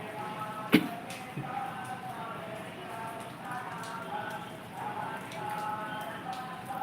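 Soft, steady patter of light rain on a surface, with one sharp knock early on and a voice faintly in the background.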